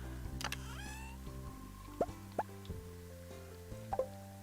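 A fishing bobber plopping into water in the video game Stardew Valley, a cast whoosh followed by a few small distinct plops and drips spaced over several seconds, light and clear over soft game music.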